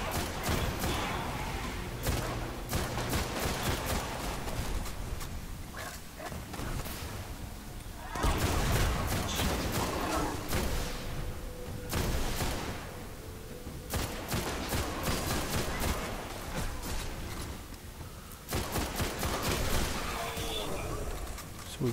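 Repeated gunfire in the Destiny shooter game, clusters of heavy shots and booms in uneven bursts over a continuous din of combat, with quieter gaps between volleys.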